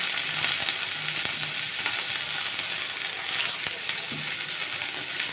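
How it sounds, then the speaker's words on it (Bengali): Bitter gourd pieces fry lightly in hot oil, giving a soft continuous sizzle with faint crackles and a few stirring taps, close by and without talk. "আগে উচ্ছেগুলো হালকা করে একটু ভাজা ভাজা হয়ে গেলে"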